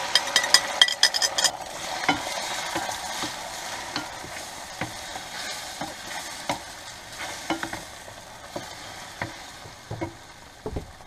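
Eggs being scrambled in a pan on an RV stove, with steady sizzling and repeated scraping stirs of a utensil against the pan, close and clear with no talking.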